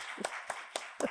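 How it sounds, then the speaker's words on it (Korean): A church congregation claps four separate times, each a short, fairly faint burst spaced at a regular interval, heard alone with no talk over it. "박수 한번 칩시다"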